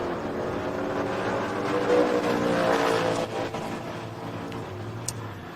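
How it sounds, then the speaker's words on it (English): A 1970 Dodge Dart Swinger and a 1970 Camaro drag race, their engines a steady, distant roar that swells and then fades over a few seconds. "The 1970 model Dodge Dart Swinger left side and the 1970 model Camaro right side."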